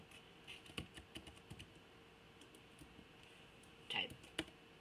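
Soft keystrokes on a computer keyboard, scattered irregular taps with a louder cluster near the end, faint over a low room hum.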